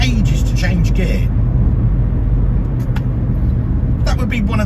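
A Smart car interior while driving, with a low, steady engine and road rumble and a gearbox that is slow to change gear, heard under continuous talking from the driver.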